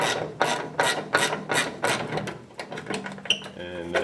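Wrench ratcheting out radiator support bolts on a 1937 Chrysler, a run of rhythmic rasping strokes about twice a second, then metallic clicks and a brief tonal squeak close by.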